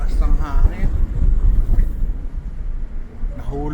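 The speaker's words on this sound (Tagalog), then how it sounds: "ang lakas ng hangin." Strong wind buffets the microphone outdoors at Mirror Lakes and Milford Sound in Fiordland National Park, a steady low roar running throughout while a person talks over it.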